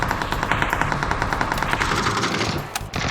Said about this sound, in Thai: มันยิงมาจากตรงไหนวะ